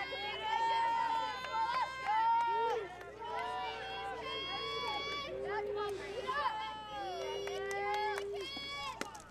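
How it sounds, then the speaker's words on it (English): Members of a St. Francis girls' softball team cheer during a game, a lively chorus of young voices chanting and shouting in bursts over a steady crowd murmur. "The St. Francis girls are really getting into cheering."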